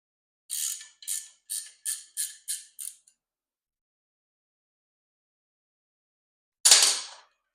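A ratchet tightens a bolt on a roll cage bar during an NHRA cage build, giving seven quick, evenly spaced clicks near the mic, then silence and one final sharper click after a pause.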